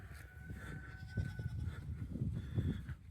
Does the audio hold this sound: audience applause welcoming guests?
no